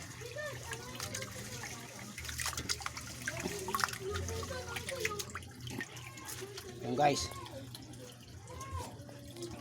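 Water poured into a container and saved for flushing a toilet, a steady splashing trickle with a brief louder gush, heard under close casual talk.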